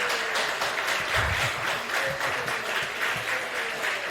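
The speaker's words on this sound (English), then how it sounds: "let's give these candidates a round of applause" Sustained applause from an audience of about 75 at a mayoral candidates' forum, steady dense clapping that fills the room from start to finish.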